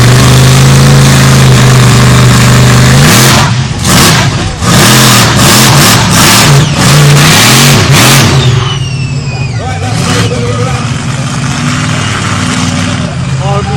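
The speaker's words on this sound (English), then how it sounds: "do you want to see some car crushing?" A heavy monster truck engine idles loudly at a truck festival, then roars and revs while a run of harsh crunching bangs crashes repeatedly as it crushes cars, before the engine settles back to a rumble.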